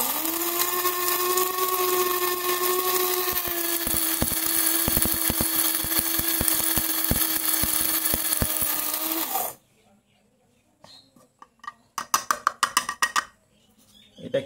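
A small mini mixer grinder whirs loudly and continuously as it grinds rice, a steady motor whine with grains rattling inside, then cuts off to near silence before a few sharp knocks and rattles follow.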